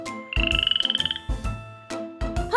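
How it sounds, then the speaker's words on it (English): A frog croaks in a fast rattling burst of about a dozen pulses, then gives several shorter, deeper croaks, loud and close with no other sounds. "Frog."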